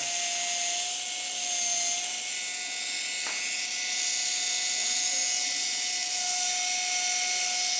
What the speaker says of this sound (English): So as I tighten this, I'm going to try to get the motor running.